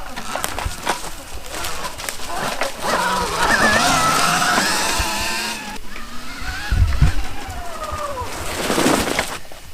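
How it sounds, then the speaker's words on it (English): A small Viper S electric dirt bike from 79EMotos rides past with a rising electric whine as it accelerates and pops wheelies, the motor pitch sweeping up and down amid wind and outdoor noise. "This thing has a ton of torque, and it's hard to not just get it to wheelie automatically right away."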